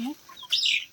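A farmhouse chicken gives a few short clucks and chirps, close by and moderately loud, with brief gaps of quiet between calls.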